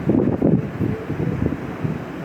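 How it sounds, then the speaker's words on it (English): Gusty wind buffets the microphone on an open deck of an AIDA cruise ship sailing in northern Europe, a rough, rumbling rush that swells and dips in uneven bursts with no talking. "Wow, it got really windy."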